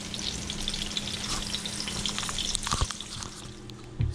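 Rice frying in a pan for a corned beef rice dish, turned over with a spoon: steady close sizzling with soft scraping stirs and a louder clack near the end, no talking.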